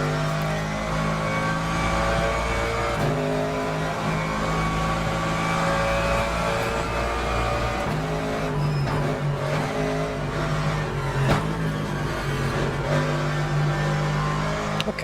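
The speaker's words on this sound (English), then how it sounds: "The whine from the transmission is very noticeable." Race car in the Le Mans Ultimate racing game, a sustained engine drone with a high gear whine from the transmission running throughout, shifting slightly in pitch as speed changes, with no talking.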